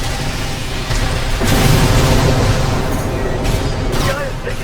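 A heavy charged cannon fires in Armored Core 6, a dense roaring blast that swells and holds for several seconds amid loud mech combat noise, with voices under the din.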